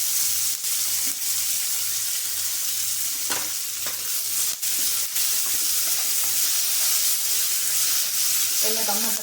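Cumin, pepper, ginger, green chili and curry leaves sizzle in hot fat in a pan for rava pongal, a loud, steady frying hiss with a few clicks of stirring and no pause throughout.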